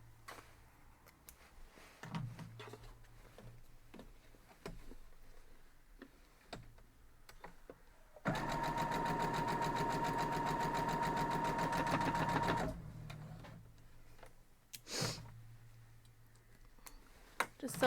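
A home sewing machine stitches a quilt block seam in one steady, loud whirring run of about four seconds. Scattered clicks and handling sounds come before and after the run.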